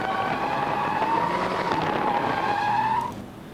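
A drifting car's tires squeal loudly in a long, steady screech over engine roar, holding for about three seconds before cutting off as the slide ends.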